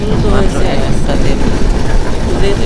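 A passenger train rolling out after leaving Bhanga junction on the Padma Bridge route to Benapole, a loud continuous rumble and rattle heard from inside the carriage.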